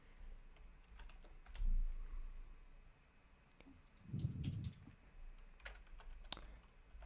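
Fingers type on a computer keyboard in quiet, irregular bursts of close clicks, with a few louder key strikes and a low thump, and no voices.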